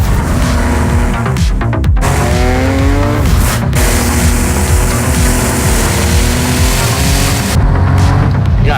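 A Porsche race car in the Project CARS 2 racing game, its engine droning loud and continuous with rising and falling pitch through gear changes, brief tire squeals and a short lift near the start.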